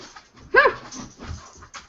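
A dog whimpers in a short, high, whiny burst up close, with faint room noise and a few soft murmurs around it.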